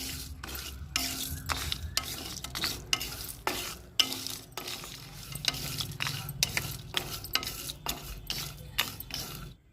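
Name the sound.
cinnamon pieces being lightly roasted in a pan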